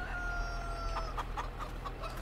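A rooster in Farming Simulator clucks in a short run of bright, evenly spaced calls over a steady low hum, fairly close and moderately loud.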